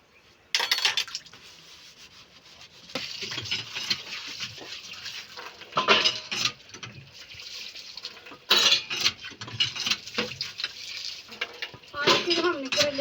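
Dishes, pots and cutlery being washed at a sink, with clattering metal utensils, clinks and splashes of water in irregular bursts, close by, with occasional faint background talk.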